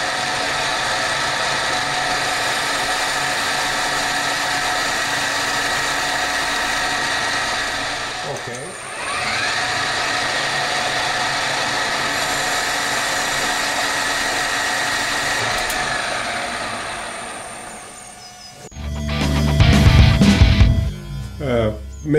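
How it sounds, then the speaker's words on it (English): A carbide drill turning at high speed bores a first hole, making a steady, loud machine whine with a brief dip partway through. The tone gives way to rougher, louder clattering near the end. "let's drill the first hole and let's see what happens here"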